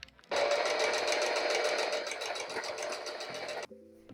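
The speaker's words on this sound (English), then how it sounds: "I'm gonna sew up the side seams, and then we're gonna make the boning channels." A sewing machine stitches the side seams of a cottagecore corset, running in one fast, steady whirring burst of about three seconds before stopping abruptly, then a faint high tone hums briefly.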